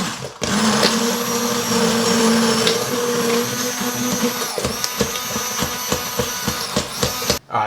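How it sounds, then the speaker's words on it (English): An immersion stick blender whirs steadily at close range as it purees beans and onions in a pot, a loud sustained motor drone broken by knocking bumps against the pot near the end before it cuts off. "I've got my stick blender right here, an immersion blender. I'm just going to stick this in here and blend these up"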